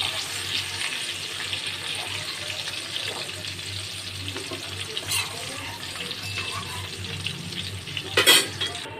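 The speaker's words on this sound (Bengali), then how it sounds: "ফুলকপিগুলো দেখো লাল করে ভাজা হয়ে গেছে।" Cauliflower fries in oil, sizzling and crackling steadily in a pan, with occasional stirring clinks and a short burst of louder scraping near the end.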